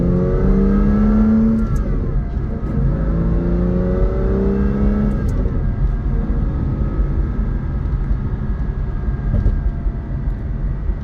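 A 2003 Aston Martin Vanquish V12 on a test drive, its engine droning loud and steady from inside the car, with rising pitch sweeps as it accelerates early on before settling into a constant rumble.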